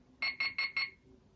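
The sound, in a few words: talking clock alarm sounding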